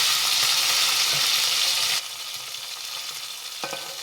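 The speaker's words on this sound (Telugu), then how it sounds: "కొంచెం అల్లం వెల్లుల్లి పేస్ట్ ఒక అర స్పూన్ వేసి దీన్ని కాసేపు ఇలాగా కలిపేస్తుంది." Ginger garlic paste frying in oil is stirred for chicken tikka, making a loud, bright sizzle that drops suddenly to a quieter crackle halfway, with a spoon scrape near the end.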